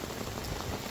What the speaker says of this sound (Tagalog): Hihintayin ko na lang tumila tong ulan.